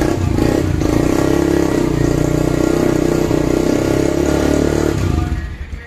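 A motorcycle cold-started at a college festival in India runs loud and close, its engine note dense and continuous with revving and rattly clatter before it cuts off and fades out near the end.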